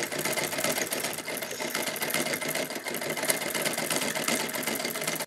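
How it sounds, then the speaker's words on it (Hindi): A sewing machine stitches the bottom seam of a fabric frill, a fast steady rattle of needle strokes running evenly and close throughout. "दोबारा टर्न करके सिल देते हैं नीचे की सिलाई"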